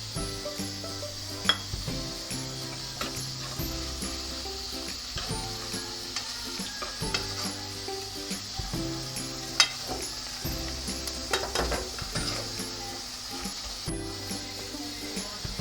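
Bay leaf, cinnamon, black pepper, black cardamom and cloves sizzle in hot oil in a pot for Lahori kali mirch chickpeas, a steady bright frying hiss with occasional spoon clinks and pot knocks.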